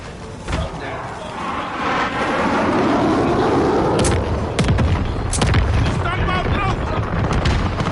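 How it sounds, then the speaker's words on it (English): White phosphorus artillery strike in a video game, heavy booming impacts and a broad rumbling roar with scattered sharp cracks, loud and sustained amid battle sounds and radio voices. "Allied white phosphorus inbound."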